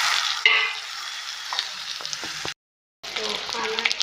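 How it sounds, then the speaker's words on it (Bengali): Egg frying in a pan with onion and green chilli, a gentle sizzle with scraping spatula strokes and light clinks, broken by a brief silent cut before the cooking noise returns. "আমি এখন ডিম ভেজে নেব"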